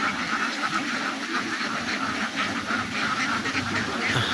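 Many ducks at a farm in Dandapal, Debiganj, quack continuously and close by in overlapping calls, alongside a faint hiss of background noise.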